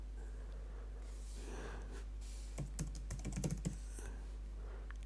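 A password is typed on a computer keyboard, a short cluster of quiet clicking keystrokes over a low steady hum, with breathing just before.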